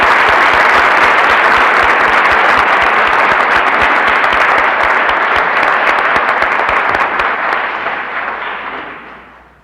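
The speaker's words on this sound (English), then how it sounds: "let's give all of them a big round of applause" Loud, sustained applause from a large crowd at a 1965 high school dedication ceremony, dense steady clapping that gradually fades out at the end.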